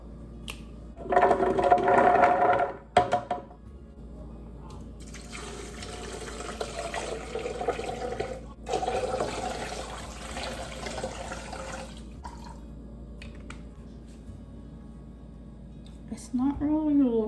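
Water poured into a container of rinsed almonds for homemade almond milk, a bright rushing pour near the start, then softer running and trickling water with a voice talking toward the end.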